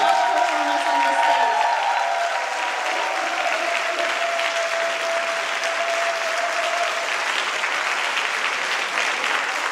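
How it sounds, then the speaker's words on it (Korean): Loud, sustained applause from a large concert audience at a choir festival closing concert in Jeju fills the whole stretch, with a faint voice briefly audible near the start. "여러분 모두가 하나 되는 뜨거운 박수로 여러분 환영해 주시죠"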